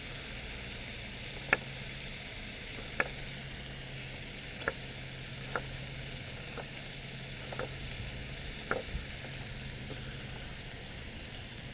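Kale, onions and bacon fry in a pan outdoors in a garden on a very hot day, giving a steady close hiss of sizzling broken by occasional sharp pops and spits.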